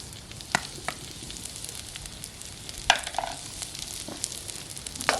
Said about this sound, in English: Cook your garlic up.